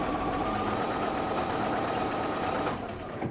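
A sewing machine stitching quilt binding, running in a fast, even buzzing rattle close by for a few seconds before slowing and stopping.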